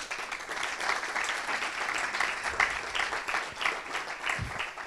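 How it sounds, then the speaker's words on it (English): An audience applauds to welcome a professor at an entrepreneurship talk, steady dense clapping from a crowd filling the room for several seconds. "we give a round of applause to warm Professor Stephen Gedeon"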